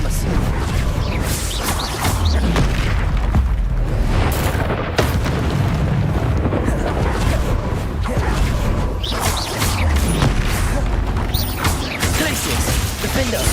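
Confringo fire-spell blasts go off in Hogwarts Legacy combat, heavy booms and whooshes piling up continuously over dense, loud game action with little pause.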